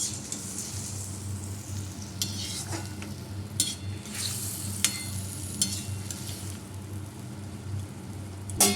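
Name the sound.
spices with turmeric, chili, ginger sautéed in pan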